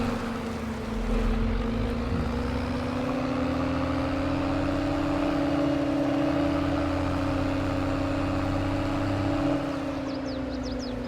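A tractor engine in Farming Simulator 22 runs at a steady, even hum with a droning tone that holds throughout, constant and unbroken, with no talking over it.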